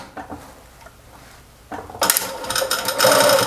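A sewing machine topstitches a seam on a welding cap, starting after a quiet stretch of faint handling and then running loud, steady and close for the last second and a half.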